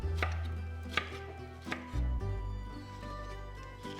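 A knife chops Harlem tomatoes for lobster mafaldine, giving a few sharp, separate thuds on a cutting board at an uneven pace, close and clear with no talking.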